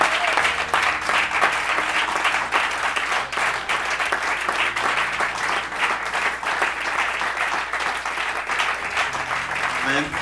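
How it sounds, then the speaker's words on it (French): A church congregation claps loudly and continuously, a dense, sustained roar of many hands filling the hall for about ten seconds, with voices calling out beneath it. "So we clap our hands"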